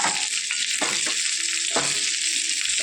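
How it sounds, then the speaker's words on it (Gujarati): Stuffed eggplants coated in gram flour frying in oil, a continuous close hiss and crackle with a few louder stirring or turning sounds breaking through; no talking. "રીંગણ આ રીતે બેસનમાં શેકાઈ જશે, તેલમાં શેકાઈ જશે"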